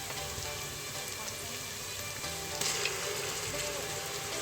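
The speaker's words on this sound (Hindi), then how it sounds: "उसको भी चंद सेकंड के लिए हम भूनेंगे प्याज के साथ, ताकि इसका जो कच्चापन है वो ख़त्म हो जाए" Ginger garlic paste fries with softened onions for a mixed vegetable sabzi of potato, cauliflower, peas and carrot, making a continuous, fairly faint hiss and crackle like light rain, with no other sounds.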